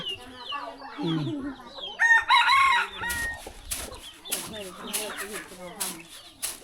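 Chickens cluck and crow close by at a rural Thai village home, with repeated short calls through the clip and a louder burst in the middle, mixed with people talking.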